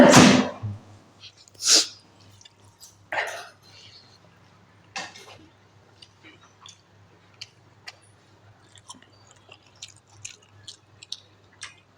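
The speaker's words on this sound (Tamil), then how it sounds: "அந்த தும்மல் வருது" A sudden, loud sneeze bursts out at close range during a meal of cabbage kulambu, followed by a couple of softer sneeze-like bursts and then faint clicks and clinks of eating.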